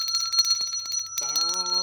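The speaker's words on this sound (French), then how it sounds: "vous l'entendez ou pas, la cloche?" A bicycle bell rings in repeated bright metallic dings, followed by a sustained chiming tone, close and clear over faint background talk.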